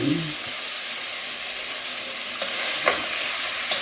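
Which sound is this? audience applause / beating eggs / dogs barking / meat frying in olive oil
meat frying in olive oil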